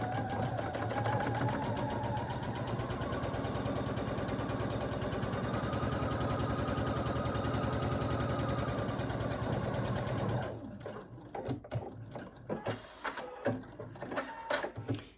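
A sewing machine stitches fabric for a basket, running in a steady, dense mechanical whir for about ten seconds at close range, then stopping into a few scattered clicks and handling knocks.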